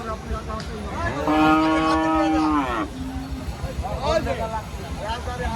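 A cow at a cattle market in Rustampur, Rajshahi, where deshi and Sahiwal cattle are sold, lets out one long, low, drawn-out moo lasting over a second, with market chatter and people talking around it.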